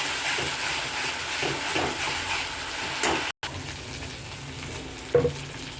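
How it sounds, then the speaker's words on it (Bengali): Spice paste of chili and cumin frying in a pan, a continuous close sizzle with soft stirring scrapes, a brief dropout partway through and a sharper clatter near the end, with no voices. "মশলাটাকে কষতে দিচ্ছি। মশলাটা ভাজা ভাজা হতে দিচ্ছি"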